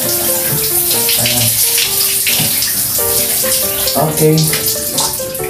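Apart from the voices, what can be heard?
water running while bathing a pet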